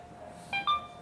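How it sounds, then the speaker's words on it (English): An electronic alarm on a bike in an R&D workspace sounds two short, moderately loud tonal beeps in quick succession over quiet room noise. "Sorry to leave you with the alarm now"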